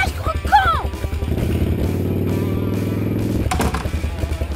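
A motorcycle engine idles and revs steadily at close range for several seconds, with a brief clattering burst near the start and near the end.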